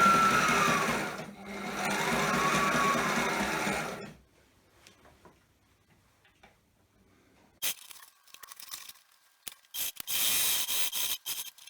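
A sewing machine stitches fabric in a steady, loud whirring run for about four seconds, then goes quiet with faint ticks before starting again in shorter bursts of stitching.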